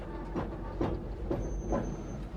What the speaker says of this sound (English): A railway yard in North London.